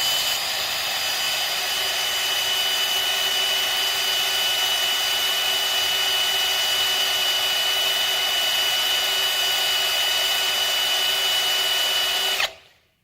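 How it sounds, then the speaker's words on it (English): A power drill bores steadily into the end of a large VEX robotics shaft, giving a loud, continuous high whine for about twelve seconds before it abruptly winds down and stops. "we just go ahead and drill that down to a depth of about maybe 3/4 of an inch"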